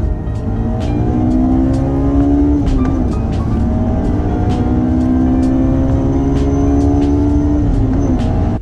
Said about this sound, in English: it has a screaming VTEC engine